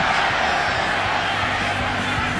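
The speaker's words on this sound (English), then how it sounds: "Some stirring in the crowd." Football stadium crowd at a college game between NC State and Clemson, a steady broad murmur and stir of many voices filling the space, continuous and fairly loud with no distinct cheer.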